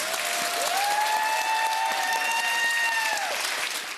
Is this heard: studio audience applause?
yes